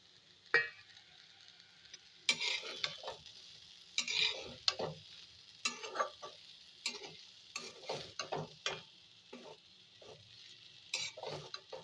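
Fried peanuts are stirred into a potato sago pilaf in a pan, with repeated scraping spoon strokes and clinks against the pan over a quiet, faint sizzle, irregular and close.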